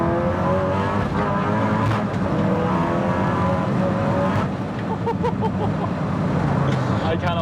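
A track-spec VW Golf R MK7 driving, its loud engine droning steadily throughout with a brief dip in the middle, under a faint background hubbub.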